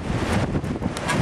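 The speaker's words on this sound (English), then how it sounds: "there's some strong wind gusts coming out this way" Strong wind buffets the microphone in rough, roaring gusts for a brief moment.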